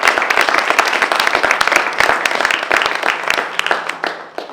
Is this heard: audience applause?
yes